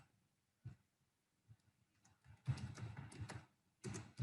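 Keystrokes on a computer keyboard while entering data into SPSS statistics software, a few isolated taps followed by bursts of quick clicking, fairly close and quiet with no voice.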